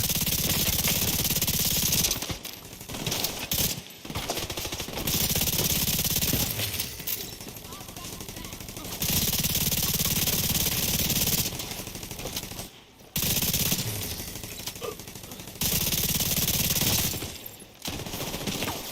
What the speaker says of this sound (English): This is feeling like an assault rifle, a proper assault rifle